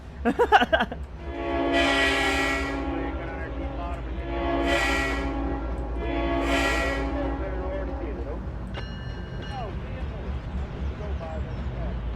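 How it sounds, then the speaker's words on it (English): A GE Evolution-series (GEVO) diesel locomotive in the Trainz train simulator game gives a steady low chugging engine rumble throughout, with three long horn blasts over it early on and a brighter tone near the end. "Got that Jevo chug going on right now."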